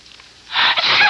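One loud, close, breathy sneeze from someone with hay fever, heard in a 1980s television advertisement after a brief quiet lead-in.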